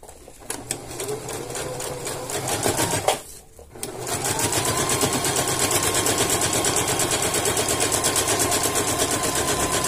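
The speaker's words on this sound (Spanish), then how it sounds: "El plástico por lo regular yo lo cosería con zigzag." A domestic sewing machine runs a zigzag stitch through plastic, starting with a few short bursts and a pause, then settling into a steady, fast, rhythmic mechanical whir that holds close and loud to the end.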